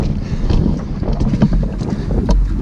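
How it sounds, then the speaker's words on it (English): Strong, steady wind buffets the microphone on an open Dartmoor moor at Sourton Tor during a wild camp, a loud continuous rumble with gusty swells and no voices. "It's a bit windy."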